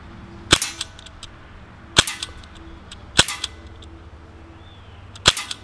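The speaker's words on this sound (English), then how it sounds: "you shoot the 4 sort of man targets there, and then you actually shoot the center one" A Sig Sauer MPX ASP .177 pellet rifle fires four sharp shots at spaced intervals, each followed quickly by the faint metallic clank of a knockdown target being hit.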